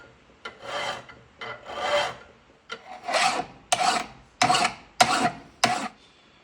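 Repeated rasping strokes of a metal file on a drill bit, about eight in a steady rhythm, close and fairly loud with short gaps between them.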